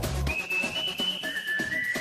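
A person whistles a long sustained note, then shifts to a slightly lower held tone, over a busy, noisy background.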